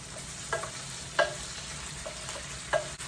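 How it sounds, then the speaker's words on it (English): Ground beef for a taco pie frying in a pan, a continuous close sizzle with a few sharp clinks and scrapes of a spoon stirring it. "My beef is starting to fry up."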